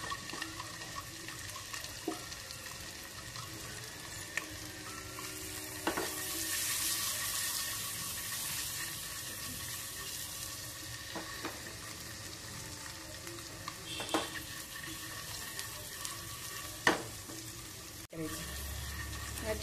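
Eggs frying in a spiced masala gravy, a soft steady sizzle at low volume with occasional clinks and stirring sounds throughout.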